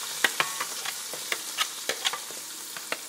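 Chopped onion frying in a hot pot, a steady crackling sizzle broken by sharp clicks and scrapes of a spoon stirring, close and alone with no voices.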